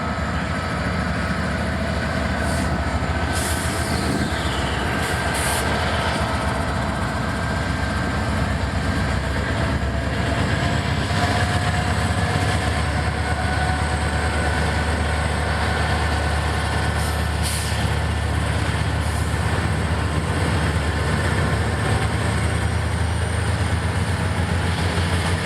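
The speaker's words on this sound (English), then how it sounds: "gravel train coming off the Savannah line." Norfolk Southern ballast freight train, loaded with gravel and coming off the Savannah line, rumbles past at close range with a steady, loud diesel drone, grinding rail noise and occasional metallic squeals throughout.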